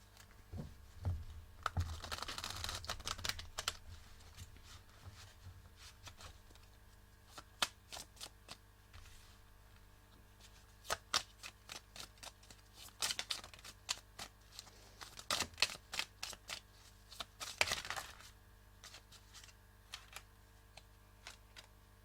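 Oracle cards being shuffled close by, quiet riffling bursts and soft flicks of card stock repeating in uneven clusters, with no talking.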